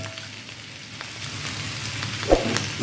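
Dried fish and green tomato being stirred as they fry in a pan, a steady close sizzle with soft scraping from the spoon and a brief louder clatter near the end.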